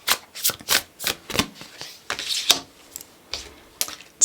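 Tarot cards being shuffled by hand, a rapid series of crisp riffling bursts and soft flutters, close and loud, with short pauses between them and no talking.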